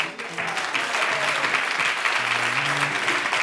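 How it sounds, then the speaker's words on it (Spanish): Applause from a wedding crowd fills the whole stretch, a dense steady patter of clapping at moderate level with faint voices mixed underneath. "Solo es un aplauso, ¿vale?"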